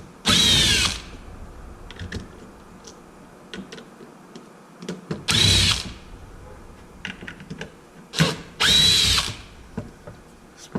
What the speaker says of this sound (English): next thing is I'm going to take off these screws so we can have access to the receiver